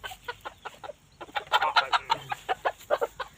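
A short-legged bantam chicken clucks in a quick, steady series of close, soft pulses that grow a little louder partway through.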